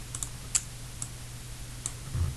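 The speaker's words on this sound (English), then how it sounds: "this I'm going to type it because it was really messy last time" A handful of sparse, crisp keystrokes tap on a computer keyboard, irregularly spaced and close, over a low background hum.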